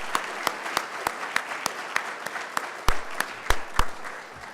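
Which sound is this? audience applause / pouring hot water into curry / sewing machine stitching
audience applause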